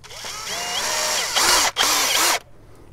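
A cordless screwdriver drives screws to hold a mosquito screen in place. Its motor whines and rises in pitch, then two loud, close bursts of driving follow with a brief pause between, and no voices are heard.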